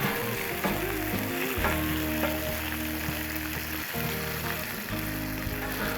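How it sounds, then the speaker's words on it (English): Bacon fries on an outdoor Blackstone griddle with a loud, continuous sizzle and crackle, broken by a few scraping, clattering shifts as strips are turned. "Flip this bacon over."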